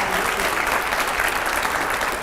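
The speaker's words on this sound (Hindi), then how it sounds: "रैपिड फायर के लिए जोरदार तालियां हो जाए जरा" Loud audience applause at a televised editors' panel with Nitin Gadkari, a dense, continuous wash of clapping from a large crowd, close and unbroken for the whole stretch.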